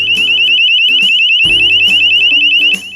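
A Braumm Wi-Fi door and window sensor alarm sounds loudly at close range, a piercing high-pitched warbling siren pulsing steadily, with a few dull knocks and clicks beneath it.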